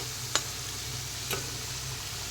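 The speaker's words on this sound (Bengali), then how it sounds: "এখানে দেখো আলুটাকে আগে ভেজে নিচ্ছি" Potatoes frying in oil in a pan as a mutton dish is prepared, giving a soft, steady sizzle with two brief sharp ticks. No one talks over it.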